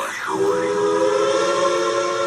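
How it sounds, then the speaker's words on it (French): A train horn or whistle sounds steadily, full and sustained with strong harmonic tones, opening with a rising and falling wail before holding a long, even blast. "c'est le vôtre de train là qu'on entend sonner au loin"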